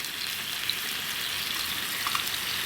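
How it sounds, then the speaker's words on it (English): Food sizzles in a hot sizzle pan with chorizo fat at a campsite, a steady bright crackling fry with occasional pops, close and continuous. "I think it'll finish off nicely in that sizzle pan, actually."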